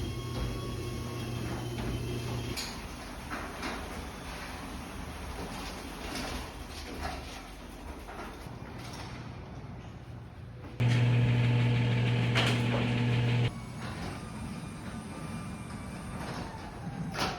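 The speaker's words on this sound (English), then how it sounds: "Does your garage door want to sound better like this?" A noisy, unlubricated residential garage door running on its track, giving a continuous mechanical rumble and grind with a louder, harsher stretch near the end, with no voices.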